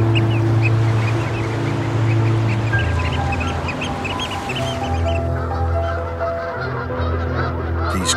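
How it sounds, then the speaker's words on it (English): A flock of Canada geese honking loudly and continuously, many overlapping calls close by, with a rushing background as they lift off from an estuary. "Canada geese are taking off on the Nevern estuary in Pembrokeshire."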